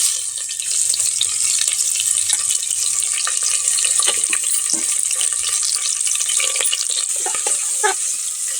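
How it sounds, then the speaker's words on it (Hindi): Whole spices, bay leaf and onion sizzle and fry in hot oil for pulao rice, a steady dense crackle with scattered pops and faint clinks, close and continuous with no talk. "सारे मसाले को अब हम यहाँ पर डाल देते हैं, फोरन जितना भी है"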